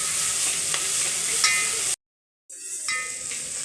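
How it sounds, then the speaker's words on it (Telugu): Fenugreek leaves fry in oil in a pan with a continuous sizzle and occasional stirring clinks, cut off by a brief silence before the sizzling resumes. "ఇలా ఆయిల్లో వేయించుకొని పచ్చి వాసన పోయినంత సేపు మనము ఇలా వేయించుకోవాలి"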